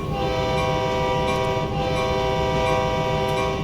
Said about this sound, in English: More honking.